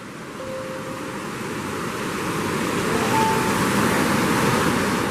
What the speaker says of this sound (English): And this is why we call it the waterfall.